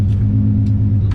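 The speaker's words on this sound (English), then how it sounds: "So I'm gonna take the Z for a little quick test drive around the block." A Nissan 350Z's engine rumbles steadily on a short test drive around the block, fitted with a 370Z axle and hub upgrade, a low continuous drone heard from inside with no talking.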